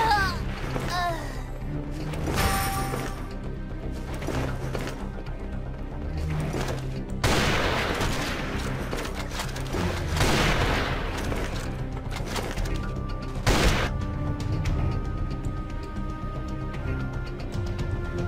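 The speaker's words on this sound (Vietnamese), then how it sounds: "khẩu súng bắn tỉa này chơi rất là phê" Sniper rifle fire in a first-person shooter video game, the F2X sniper rifle, with sharp loud shots spaced a few seconds apart over music and game sounds, some shots rolling into echoing booms.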